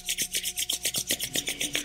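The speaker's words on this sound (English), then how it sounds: "let's rub the hands together to tune up" Two hands rubbing briskly together in a quiet yoga session, a dry rasping swish repeated in quick, even strokes about five times a second.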